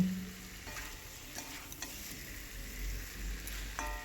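A pan of pumpkin and rohu fish sizzles steadily while a utensil scrapes and stirs a few times; it stays fairly quiet, and nobody speaks.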